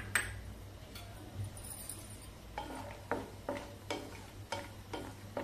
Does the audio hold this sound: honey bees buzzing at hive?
no